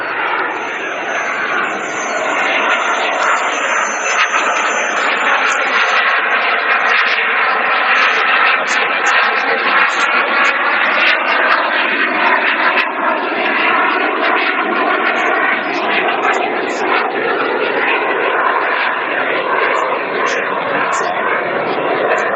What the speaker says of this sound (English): the people who own and operate this aircraft, flying it here today at Ila, Renzo Catellani and Stefano Bruni